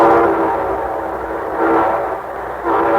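A radio show's train sound effect rumbles steadily with a prominent, sustained horn blowing in swells, loud and close throughout.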